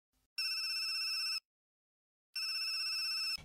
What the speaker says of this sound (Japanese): 今広野さんから電話がかかってるの